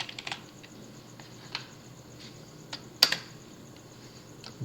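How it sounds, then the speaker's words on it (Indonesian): Keys on a computer keyboard are tapped in short irregular bursts, close and fairly quiet, with a few sharper clicks standing out over a faint background hiss. "Jadi kita bisa ketikkan aja"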